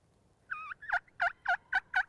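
A wild turkey gobbles during a turkey hunt, one opening call followed by five rapid, evenly spaced gobbles, fairly near and clear with no talking.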